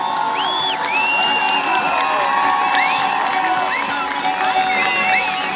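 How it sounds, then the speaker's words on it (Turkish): A crowd at a well-attended municipal event in Amasya, Turkey, cheers loudly and continuously, with whoops and high shouts rising over a dense roar. "Hep beraber coşkulu bir alkış istiyoruz."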